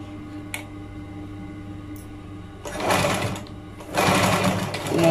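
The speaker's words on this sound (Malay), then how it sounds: "Kita jahit setengah inci je." A sewing machine stitching a half-inch seam runs in two short bursts of fast whirring, close by, separated by a brief pause, with quiet handling sounds before it starts.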